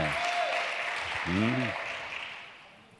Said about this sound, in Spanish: Eso merece, sí, un aplauso.